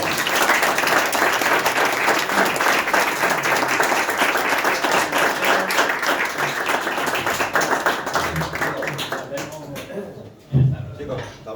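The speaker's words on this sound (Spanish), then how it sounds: "Un aplauso para" Studio audience applause for departing guests on a Madrid talk show, dense steady clapping that fades out near the end, followed by a brief thump and quiet.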